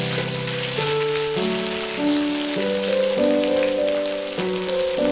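Fried potatoes and bitter gourd for shukto are stirred in a pan, giving a steady, soft sizzle that sits beneath a melodic music track.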